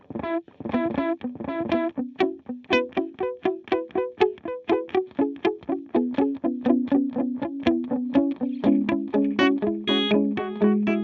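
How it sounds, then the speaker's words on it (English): Line 6 Helix Euclidean delay with the high cut turned way down, making a steady stream of plucked guitar notes whose repeats sound darkened and lo-fi, with rhythmic, evenly spaced attacks played alone. "if I bring that way down, you'll hear how those repeats are just darkened way up"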